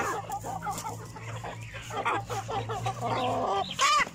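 Chickens clucking busily while they feed, with repeated close, choppy clucks and a few sharper calls toward the end over a low steady background hum.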